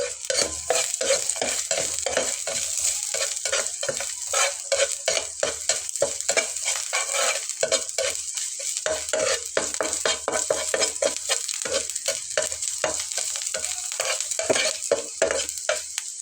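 Chopped garlic and ginger sizzle steadily in hot oil while being stirred, with continuous loud frying hiss and frequent scraping strokes of a spoon through the pan, no voices.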